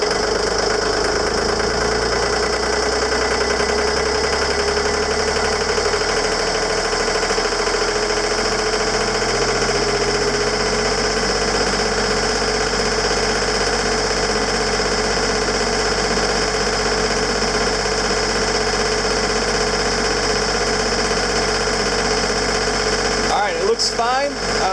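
A boat's engine on the Chesapeake runs in reverse at about 2,000 RPM, a loud, steady drone with a knocking vibration that holds unbroken throughout.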